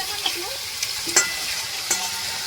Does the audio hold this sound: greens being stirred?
yes